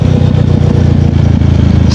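A KTM Duke 390 engine runs close by in a loud, steady, rapidly pulsing throb, with no speech.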